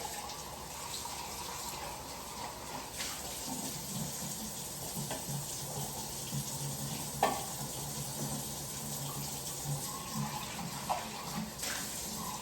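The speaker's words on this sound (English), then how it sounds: "So I'm gonna rinse this out." Water from a tap runs steadily into a container as it is rinsed out in a kitchen. A constant hissing splash goes on, with a few louder clinks and sloshes near the middle.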